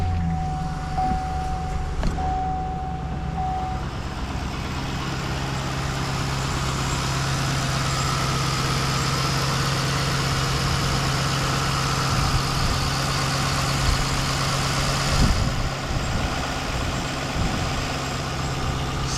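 A rebuilt Chevrolet Caprice police car engine idles steadily and smoothly after startup, a constant low rumble with a steady hum, running without change throughout.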